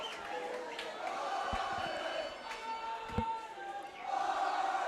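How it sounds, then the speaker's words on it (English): Ireland supporters cheer at a women's ultimate frisbee match, a distant, steady outdoor crowd roar with scattered shouts and a rise in excitement near the end. "You can hear the crowd, the Ireland men's team sticking around, very excited."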